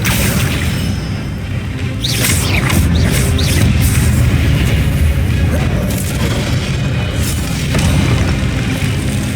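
Spell effects from Hogwarts Legacy play as one long, loud, continuous run of magical booms, whooshes and crashes, with a few brief sweeping swishes rising above a dense rumbling bed.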